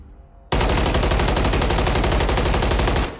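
Rapid automatic MCW rifle fire in a video game erupts after a brief quiet lead-in and runs continuously for nearly three seconds, loud, dense and close, with no talking.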